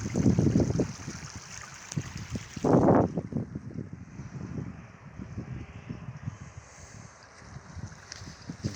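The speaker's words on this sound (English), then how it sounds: "You can hear the big waves booming in the distance." Big ocean waves break in the distance off a wild beach, a steady rushing roar with surges and gusts of wind buffeting the microphone.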